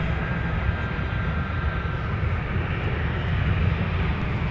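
A fixed-wing airplane rolling for takeoff at Minneapolis–St. Paul airport, a loud, steady broadband engine roar holding level throughout without pause.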